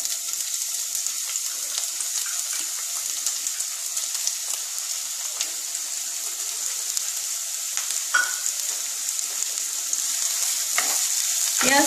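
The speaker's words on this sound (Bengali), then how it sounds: "এবারে আমি পেঁয়াজটা দিয়ে দিলাম," Sliced onions fry in hot oil for a chicken shingara filling, a constant bright sizzle with occasional soft stirring clicks close by.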